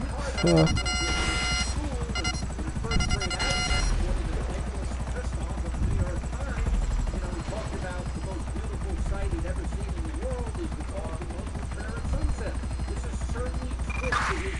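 A helicopter in the video game GTA V, a continuous loud rotor drone with a low thumping hum running throughout, heard under steady talk and game chatter.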